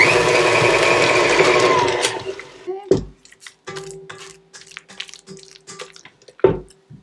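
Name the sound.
electric mixer beating butter, cocoa powder and coconut milk frosting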